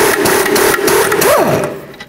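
An air impact wrench with an 18mm socket spins a tie rod nut off the front steering of a 2007-12 Dodge Caliber: a loud, steady buzzing whir that revs up and then trails off near the end.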